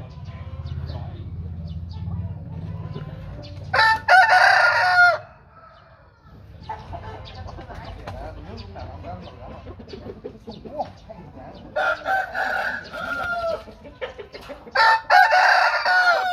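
A rooster crows loudly and close by several times, with long, separated calls rising over low rumbling background noise and quieter stretches between the crows.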